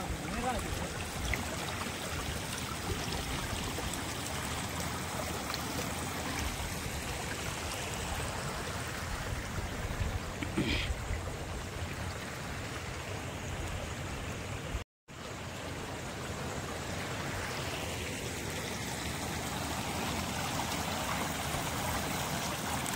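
A stream flows steadily on a farm beside a small check dam, a soft continuous wash of water heard faintly throughout with a brief dropout partway.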